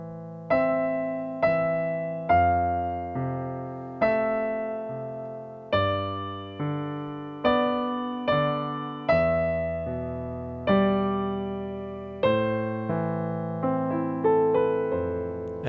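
Piano playing a piece, slow chords and melody notes that ring out and decay one after another, clear and close with no talking.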